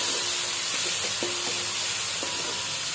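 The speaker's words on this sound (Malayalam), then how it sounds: "തക്കാളി കൂടെ ചേർത്തിട്ട് നന്നായിട്ട് വഴറ്റി കൊടുക്കാം." Chopped tomatoes sautéing in a pan with mutton masala for a Palakkad-style mutton roast, giving a steady, close, bright sizzle with a few soft clicks of a stirring spoon.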